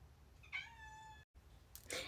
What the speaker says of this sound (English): She meowed right at the end